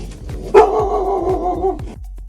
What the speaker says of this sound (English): The dog would love to see it, honestly.